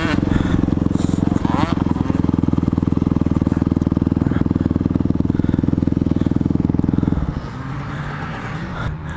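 A 250 four-stroke dirt bike engine drones steadily and loudly up close, with a rapid pulsing chug that drops abruptly to a quieter idle near the end. A rider talks over the engine.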